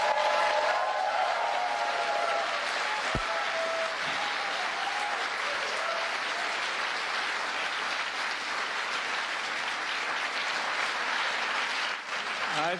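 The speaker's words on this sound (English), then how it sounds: "Nice round of applause for Joe." Large audience clapping for President Biden at a climate event, sustained loud applause filling the room for over twelve seconds with occasional shouts and whistles rising above it.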